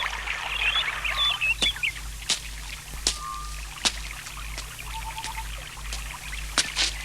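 River water flows steadily in the background while birds chirp and a series of sharp clicks or taps recur, the water a constant wash under the other sounds.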